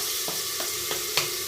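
Tomato frying with softened onions in a pan for egg biryani, a steady sizzle punctuated by four evenly spaced soft taps of a stirring spoon.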